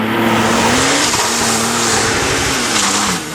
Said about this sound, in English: That was one of the fastest launches, hardest launches I've ever done in a car.